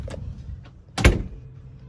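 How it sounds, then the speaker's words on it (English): A screen door on a 2005 Exiss ES307 horse trailer is worked once, giving a single short rattling clack near the middle of a quiet stretch, with faint knocks just before. "This does have a screen door."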